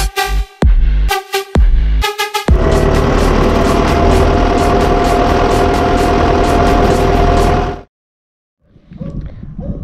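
A loud, steady MTZ Belarus 920.3 tractor engine drones at idle for several seconds after a few sharp revving bursts, then cuts out abruptly, leaving quiet with faint background noise.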